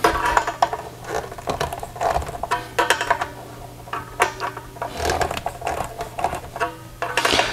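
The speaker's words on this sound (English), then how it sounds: "let's go ahead and get in there and tighten those screws" Screwdriver tightening screws on the underside of a cheap guitar during a setup, giving repeated close-up clicks and ratcheting scrapes with brief bursts of mechanical turning and handling noise.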